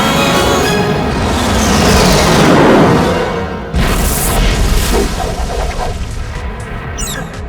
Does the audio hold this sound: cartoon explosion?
yes